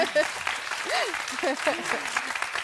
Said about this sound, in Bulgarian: Аплодисменти за госпожа Михайлова.